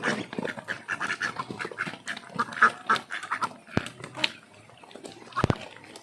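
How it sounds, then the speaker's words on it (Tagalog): Several ducks quack in irregular bursts at close range, with some louder honks standing out over a busy outdoor farmyard background with chickens. "Yung apat naming itik"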